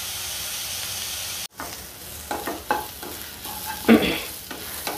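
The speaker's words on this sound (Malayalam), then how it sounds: "സവാള മുരിയാറായിട്ടുണ്ട്." Onions fry in coconut oil in a pan for egg curry, with a steady sizzle and a few scraping strokes of a spatula, one louder stir near the end.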